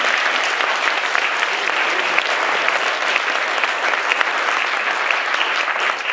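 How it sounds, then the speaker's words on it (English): A meeting audience gives a round of applause for Nancy, a steady, dense wash of many hands clapping at even loudness throughout, with no talking over it. "a round of applause for Nancy"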